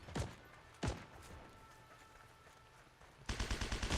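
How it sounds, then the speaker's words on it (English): Gunfire in the World War II shooter game Heroes & Generals: two sharp single shots early on, a quiet gap, then a rapid burst of repeated automatic fire near the end, fairly close and loud. "Somebody's overlooking east ramp shooting at me."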